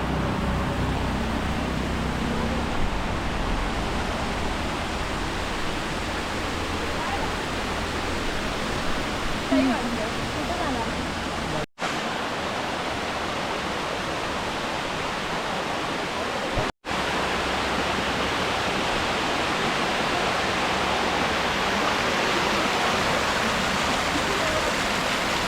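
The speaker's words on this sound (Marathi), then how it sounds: "आता आम्ही माळशेजला एका धबधब्यावर आलो आहे" Waterfall at Malshej, a steady, loud broadband roar of falling water that fills the scene continuously, with two brief cuts to near-silence partway through.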